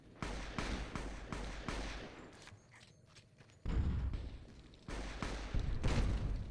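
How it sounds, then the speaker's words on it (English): Gunfire in Fallout: New Vegas comes in loud, dense volleys of rapid shots. It breaks off into a brief, quieter lull, then resumes just as hard, with no talk heard. "Who is shooting"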